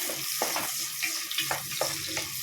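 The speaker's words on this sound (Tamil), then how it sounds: "சேர்த்து நல்லா ஃப்ரை பண்ணிக்கலாம்" Onions fry in hot oil for a mutton curry, with a steady bright sizzle broken by several soft stirring scrapes at irregular intervals.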